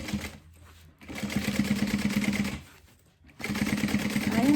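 A domestic sewing machine stitches lunch box fabric at a long 4.5 stitch length, giving a rapid rhythmic clatter in two bursts separated by a brief pause, close and moderately quiet.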